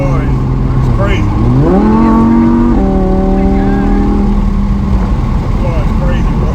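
An Audi R8 engine pulls hard while driving, its tone climbing steadily through the revs and then settling after a shift, loud and close inside the cabin, with no talking.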